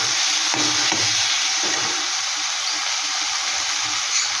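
Garam masala being stirred into a sizzling pan of frying fish-bone curry, with steady loud frying hiss and a few soft spoon scrapes and taps throughout.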